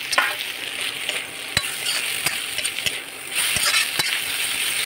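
A spoon stirs cut puris with tomato and capsicum in a sizzling pan, giving a steady frying hiss broken by occasional light scrapes and clinks.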